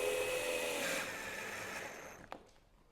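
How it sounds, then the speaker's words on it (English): A power drill pre-drills a couple of holes into wood while mounting a retractable dog gate, a steady whirring buzz lasting about two seconds that fades out, followed by a brief sharp click. "We'll just pre-drill a couple holes so we don't split our wood."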